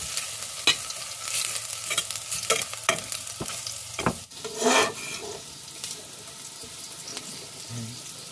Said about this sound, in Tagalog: Gisahin natin yung ating karne.